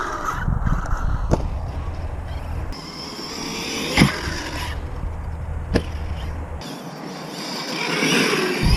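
An Arrma Big Rock 6S BLX 4x4 RC truck drives outdoors, its motor whining in bursts that start and stop, with sharp knocks and clatters from the chassis scattered throughout.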